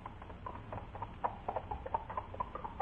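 Horse hooves clip-clop in a steady trotting rhythm, a sound effect from a 1948 Brazilian Rádio Tupi radio drama, moderately close and heard alone with no talk.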